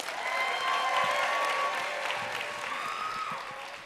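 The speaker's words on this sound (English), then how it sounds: "give a big round of applause for Peyton Leone." Audience at a live storytelling show applauds a comedian taking the stage, sustained dense clapping with faint cheering mixed in, steady throughout and easing slightly at the end.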